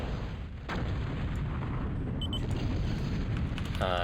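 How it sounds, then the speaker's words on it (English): Artillery-style cannon booms from Big Bertha long-range guns in the real-time strategy game Total Annihilation, a steady rumbling barrage with dense low-end blasts sustained across the clip, with small chirps and blips of game effects. "Jorn's Big Bertha's up first and immediately takes out that air plant"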